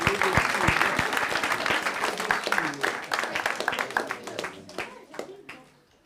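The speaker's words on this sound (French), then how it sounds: "Vas-y, on peut l'applaudir." A group of children and adults applauds at a Christian gathering: dense clapping that thins into scattered individual claps and fades out, with young voices chattering underneath.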